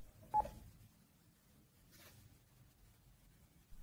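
A Panasonic KX-TES824 phone system sounds a single clear keypad tone, followed by a softer click and faint handling noise in a quiet room.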